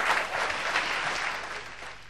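An audience applauding at Elvis Phương's live show after a new duet pairing is introduced, a dense, loud wash of clapping that gradually tapers off.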